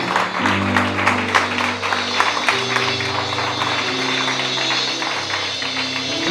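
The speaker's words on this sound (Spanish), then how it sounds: "Denle un aplauso al Señor" A church congregation applauds during a Sunday service, steady clapping over sustained low organ or keyboard chords that shift in pitch.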